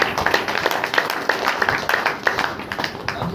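A church congregation claps in a quick, uneven rhythm during a Hindi-language worship meeting, with crisp hand claps rising over a murmur of voices and song.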